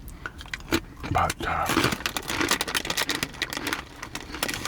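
Crisp, close crunching bites of crunchy cheese puff snacks from Canada, irregular and snappy, with a person talking softly between the chews.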